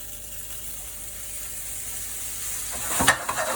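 Mushrooms dropped into a very hot pan with olive oil, the same pan used for a wagyu fillet steak, burst into a loud sudden sizzle near the end after a quieter background hiss.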